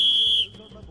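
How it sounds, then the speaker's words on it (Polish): A referee's whistle at a football shooting challenge, one loud, shrill, close blast lasting under half a second, followed by quiet room noise. "a zatem gwizdek"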